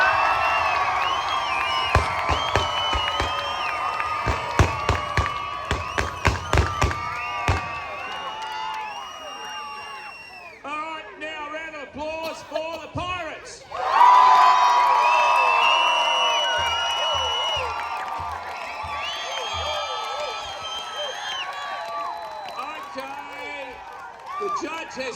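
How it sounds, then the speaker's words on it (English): A crowd at a regatta boat battle cheers, whoops and claps for the Navy team, loud and sustained with shouting voices, a quieter lull in the middle, then a sharp swell of cheering. "Round of applause for the Navy."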